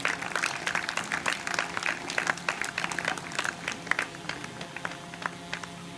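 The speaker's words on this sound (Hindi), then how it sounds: "एक बार फिर जोरदार तालियां।" An audience at an International Yoga Day yoga and meditation session gives a long round of brisk, continuous applause, with dense, overlapping claps at an even loudness throughout.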